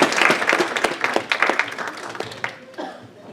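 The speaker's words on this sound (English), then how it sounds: "let's just give a warm applause for Dr. Herman Reid." An audience at a talk on Alzheimer's and dementia gives warm applause for the presenter. Close, crisp handclaps start loud and thin out over a few seconds, with a faint murmur from the crowd.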